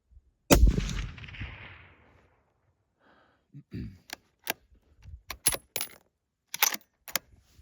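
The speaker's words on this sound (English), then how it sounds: "I'm going to shoot 3 more, and hopefully we'll be done for the day" A 7mm Backcountry rifle fires one sharp, loud shot at a shooting range. The report decays quickly, then scattered metallic clicks and clinks of handling follow.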